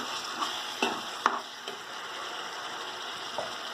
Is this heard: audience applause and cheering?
no